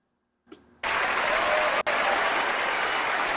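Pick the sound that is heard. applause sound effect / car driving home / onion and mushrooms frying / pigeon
applause sound effect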